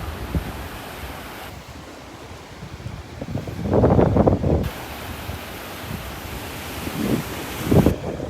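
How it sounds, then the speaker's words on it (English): Wind gusts buffet the microphone on a beach at Delnor-Wiggins while surf rolls in, with a steady roar and several louder swells rising and falling, no talking. "That wind's picking up."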